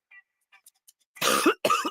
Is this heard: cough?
yes